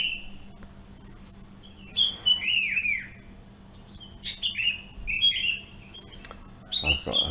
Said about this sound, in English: I got the bird chorus out here this morning.